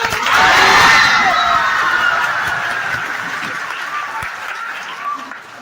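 An audience at a Teachers' Day stage event with a comic poet breaks into loud applause mixed with cheering and children's shouts, peaking early, then gradually thinning into softer clapping.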